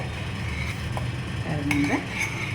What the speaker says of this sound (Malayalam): പതുക്കെ സ്റ്റിർ ചെയ്യുക കട്ടിയായിട്ടുണ്ട്